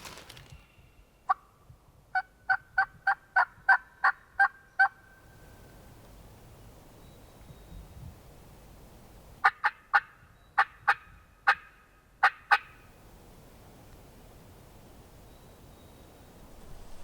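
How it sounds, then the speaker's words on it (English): Wild turkey gobblers on Mississippi public land sounding off in a rapid series of gobbles, one early call then two volleys of repeated sharp gobbles, moderately distant and clear against a quiet outdoor background with no talk. "pretty sure it's the same two gobblers that we were on most of the morning"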